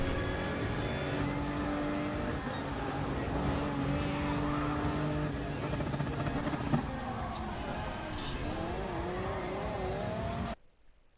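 Race cars in Gran Turismo Sport lapping together with steady engine drone, rising and falling revs and brief tire squeal, loud and continuous for about ten seconds before cutting off.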